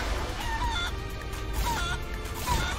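Chickens clucking and crowing in the video game Guacamelee! 2, repeated squawking fowl calls over a dense, continuous game soundscape with steady low rumble.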